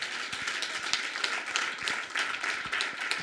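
A church congregation applauds at a New Year poetry celebration, a dense, steady patter of many hands clapping at moderate volume, with no distinct voices over it.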